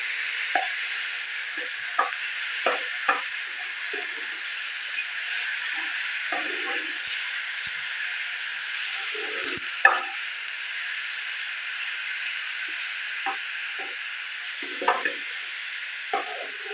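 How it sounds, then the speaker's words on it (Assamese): A ginger, garlic and onion paste fries in a pan with a steady soft sizzle, broken by occasional scrapes and clinks of stirring, close and fairly quiet. "আদা, নহৰু, পিঁয়াজ মিক্সিত পিচি লোৱা, ভালদৰে ভাজি ল'ব লাগিব।"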